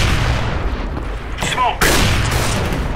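A grenade blast in the shooter game CS:GO on the Mirage map goes off as a single sharp boom midway through, set against steady game noise and faint voice chatter.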